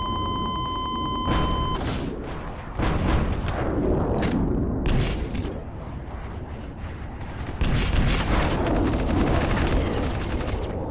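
Bursts of gunfire and explosive blasts in the War Brokers video game, repeated loud rapid shots and booms in irregular clusters over about ten seconds, with no voices.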